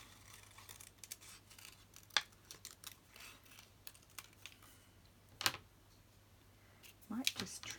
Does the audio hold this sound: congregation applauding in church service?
no